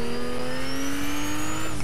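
A car in a shooter video game pulls away, its engine revving steadily with rising pitch, loud and close, with a faint tire squeal and no talk over it.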